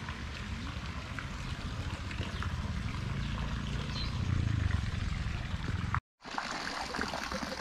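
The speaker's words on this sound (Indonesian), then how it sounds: "air mancur ini tidak digerakkan oleh mesin, melainkan apa secara alami" Natural water fountain in a rural village near Tasikmalaya, flowing through a pipe without a machine: a steady rushing and trickling of water that swells slightly before a brief cut, then continues.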